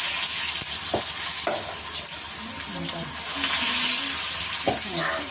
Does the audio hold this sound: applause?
no